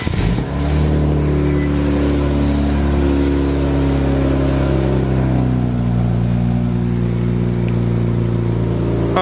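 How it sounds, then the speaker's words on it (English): An Infiniti Q60 with AMS downpipes and an aftermarket exhaust on cold start, a loud, close, steady droning idle with a rich low rumble that drops slightly in pitch as it settles, heard alone. "this is gonna be the first cold start with the new 4-ace downpipes with the exhaust"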